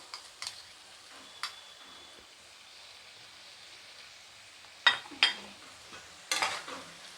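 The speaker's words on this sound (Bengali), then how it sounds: "নাড়াচাড়া করে নিচ্ছি।" A spoon stirring jackfruit and potato curry with sour yogurt in a pan, with a few sharp scrapes and knocks against the metal scattered over a quiet, faint background.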